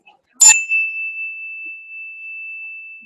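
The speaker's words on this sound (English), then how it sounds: "My students know that I love my bell, and Catherine knows too" A teacher's handheld bell struck once, a bright metallic ding that rings on as a pure sustained tone for a few seconds in a quiet room.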